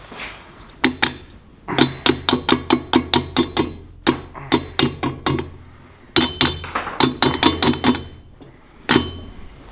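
A hammer taps away at parts of an Atlas limited-slip differential on a 1969 Ford Capri in quick bursts of sharp metallic knocks, each run of several hits split by short pauses and heard up close in a workshop.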